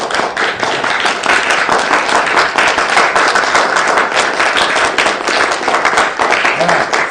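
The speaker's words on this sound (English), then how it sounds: "Give yourselves a round of applause." Dense, loud applause from an audience at a live business seminar, steady clapping filling the whole stretch without a break.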